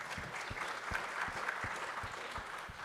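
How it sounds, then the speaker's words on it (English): An audience at a forum gives the panelists moderate applause, a steady patter of many hands with a few closer, heavier claps standing out, continuing evenly throughout. "I think we could give them a round of applause."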